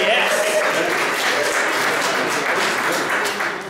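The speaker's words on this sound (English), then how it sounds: "So big round of applause to Rhythm and Spice for providing lunch today." Lunch-and-learn audience applauding the caterer Rhythm and Spice, with a room of people clapping steadily and loudly, mixed with cheering voices, tapering slightly at the end.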